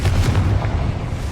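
The Confringo fire spell from Hogwarts Legacy erupts in a loud, booming explosion, a single heavy blast with a deep rumbling low end that fades slightly over its short length.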